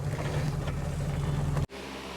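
A bagged mini truck with air ride suspension drives outside under its own power, its steady low engine drone continuing loudly until a sudden cut, then resuming more quietly.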